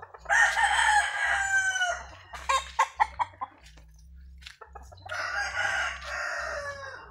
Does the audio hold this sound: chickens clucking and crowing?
yes